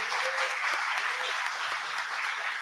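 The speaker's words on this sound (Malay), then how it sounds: "tepukan untuk anak muda tersebut" Steady applause from a seminar audience gathered in a hall, a dense, even patter of clapping lasting the whole stretch with no voices standing out.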